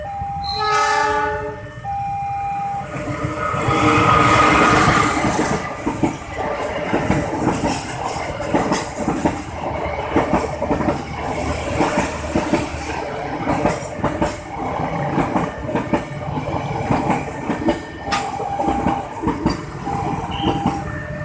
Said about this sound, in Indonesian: Katanya kereta diesel.